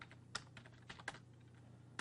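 Keys clacking on a computer keyboard as a file name is typed, a quick irregular run of close, crisp taps with a few sharper strikes over a quiet room.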